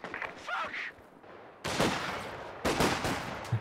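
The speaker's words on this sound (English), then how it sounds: "Did eventually fire the machine gun" Machine gun fire in the Company of Heroes 2 strategy game: two loud bursts of rapid shots, each roughly a second long, separated by a short gap, with quieter battlefield noise and faint effects before them.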